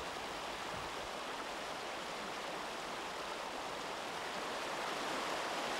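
A stream flows in a forest with an even, continuous rushing murmur, moderately soft and unbroken, and no one talking.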